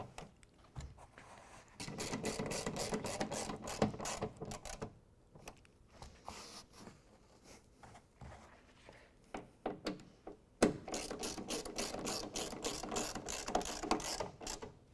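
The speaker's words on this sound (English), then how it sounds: "We're going to go ahead and tighten down the screws just until they get nice and snug." A hand ratchet clicks in quick bursts while tightening screws on a truck bedliner, close and crisp, with short pauses between runs of rapid ticking.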